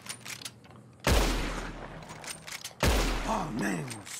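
Enemy gunfire in Red Dead Redemption 2, two heavy, loud blasts of shooting, each with a booming low tail, set against background game sound.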